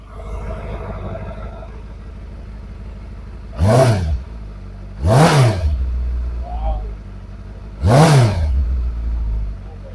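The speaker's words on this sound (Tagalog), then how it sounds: "So talagang napakaganda ng scream ng kanyang exhaust." A Benda LFC 700 Pro motorcycle revving through its exhaust, close and loud, idling between three sharp rising and falling throttle blips spaced a couple of seconds apart.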